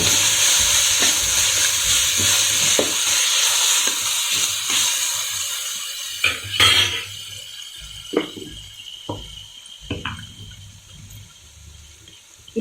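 Onions sautéing in a wide pan for a mushroom dum biryani: a steady bright sizzle throughout, broken by several loud stirring scrapes and clatters toward the end, no speech.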